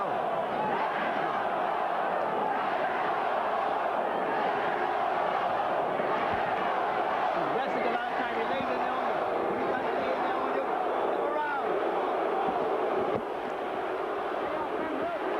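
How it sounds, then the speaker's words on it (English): A large arena crowd at the 1992 Riddick Bowe vs Evander Holyfield heavyweight boxing fight, chanting for Bowe as a dense, continuous roar, with a commentator speaking over it. "Many in the crowd chanting, "Let's go, Bowe.""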